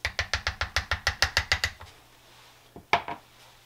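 Spoon clinking rhythmically against a bowl while fish ceviche is mixed with ají amarillo and ají rocoto, about a dozen quick, evenly spaced taps close by, then a pause and a couple of final knocks.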